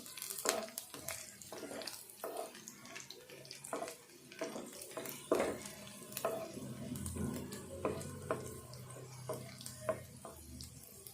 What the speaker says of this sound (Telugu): ఎల్లిపాయలు ఈ తాలింపు కొంచెం దూరగా వేగితే సరిపోద్ది